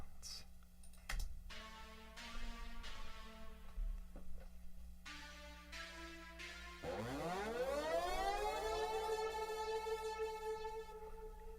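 A synthesized siren sweeps upward and holds a rising, wailing tone, following a few plucked electronic notes and clicks.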